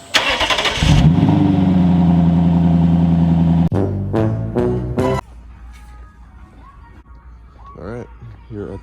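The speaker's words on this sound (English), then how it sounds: "first off, cold start on the 2007 Lexus LS460." A 2007 Lexus LS460 engine cold starts with a short cranking whir, then catches into a loud steady high idle, followed by a few sharp rhythmic clunks before quieter background sounds and brief talking.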